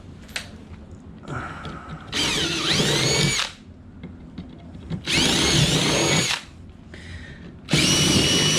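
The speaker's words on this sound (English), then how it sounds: "the metal plate wasn't quite on this lip, so now we're gonna have to re-drill" A power drill runs in four loud bursts of varying length, whining and biting into a metal plate up close while re-drilling holes on a RAM 4500 chassis cab, with quieter handling noises between bursts.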